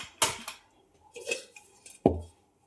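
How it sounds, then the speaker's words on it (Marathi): A kadhai set down among steel pots and pans in a home kitchen: a few sharp metallic clanks and clatters, close by, spaced out over a couple of seconds with quiet gaps between. "कढाई ठेवलेली आहे."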